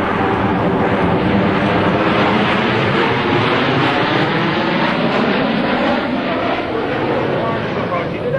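A US Navy Blue Angels F/A-18 jet roars past in a maximum-performance afterburner turn at an air national guard open house, the loud continuous jet roar under an announcer's commentary.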